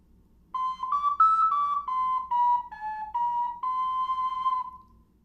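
A plastic soprano ocarina plays a slow run of clear, pure whistled notes, each held briefly and stepping gently up and down before one long sustained tone fades out, heard alone with no talk.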